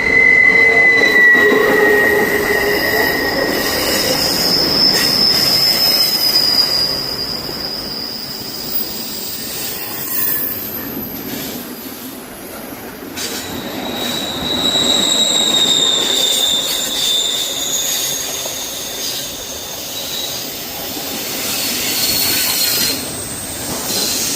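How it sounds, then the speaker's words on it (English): A freight train roars past at close range, loud and continuous, with high metallic wheel squeals sliding in and out over the rumble. "definitely recommend earplugs if you're going to get this close to a freight train."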